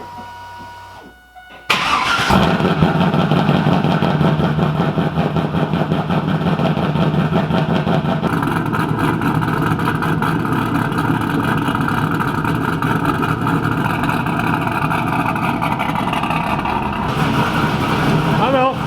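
A Pontiac WS6 engine cranks and fires after a brief quiet moment, then settles into a loud, steady idle running close by for the rest of the time, with people talking faintly over it.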